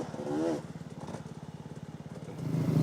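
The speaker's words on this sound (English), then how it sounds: "Spinning tyres and almost flat tyres by this stage already, and one of definitely the heaviest bikes out there." A heavy enduro motorcycle labours on a dusty, rocky race stage with zero grip, tyres spinning and nearly flat, its engine pulsing in a rapid, rough rhythm up close, with a voice speaking faintly underneath.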